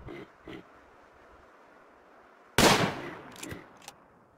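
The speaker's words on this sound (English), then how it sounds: "God, she can shoot really far." Gunfire from a colonist's rifle in the colony-management video game Rimworld: one sharp, loud burst with a short ragged tail and a few smaller cracks after it, preceded by two faint, muffled thumps.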